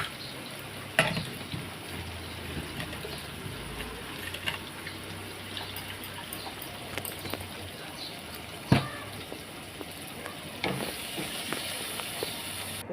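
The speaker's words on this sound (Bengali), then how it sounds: "গুছিয়ে একটু নাড়াচাড়া দিয়ে ভালো করে মশলাটাকে একটু ভাজা ভাজা করলাম" Spices fry in a pan with a soft, steady sizzle and hiss, broken by a few sharp clinks and scrapes of stirring. The sound is fairly quiet and close, with no talking.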